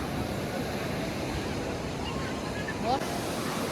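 Ocean surf washes continuously at crowded Puri beach, a dense broadband rush of breaking and receding water with wind buffeting the microphone, steady and loud with a brief surge near the end.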